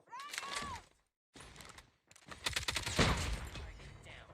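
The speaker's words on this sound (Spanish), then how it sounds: "literalmente la bala entra apenas aprieta el botón de disparo" Bursts of rapid gunfire in Call of Duty Mobile crackle in choppy clusters separated by a short silence, mixed with whooshing effects and a loud, dense exchange near the end.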